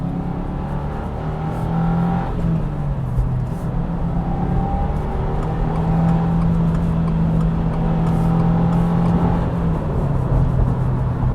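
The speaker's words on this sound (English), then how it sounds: "you can also hear the exhaust. The exhaust is not too loud, not too quiet. It can be a little boomy depending on what rev range you're in" A 2022 Subaru WRX with a six-speed manual accelerates, its engine and exhaust droning steadily with rising and shifting tones across the pull, fairly loud and close, with no talk over it.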